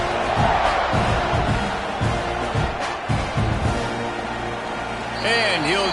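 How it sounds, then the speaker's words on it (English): Stadium crowd roaring and cheering throughout a college football video game matchup between Georgia Tech and Texas A&M, a dense continuous wall of noise with a commentator talking over it. "this crowd is feeling themselves after that last drive"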